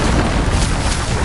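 The Incendio fire spell is cast in Hogwarts Legacy on PS5, a dense, loud whooshing roar with booming bursts that fills the whole moment, heard alone.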